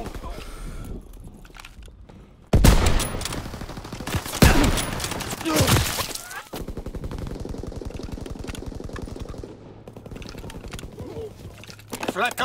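Flak guns firing in a World War II video game, heavy booming bursts and a rapid stream of repeated shots, with loud blasts early on giving way to steadier continuous firing.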